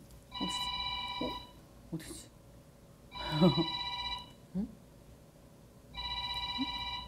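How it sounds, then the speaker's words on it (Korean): A telephone bell rings in three bursts separated by pauses, loud and close, while a person speaks briefly between the rings. "전화네?"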